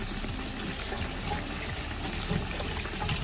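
A peanut butter and jelly sandwich frying in hot oil gives a steady, dense sizzle and bubbling hiss that stays continuous and fairly loud throughout.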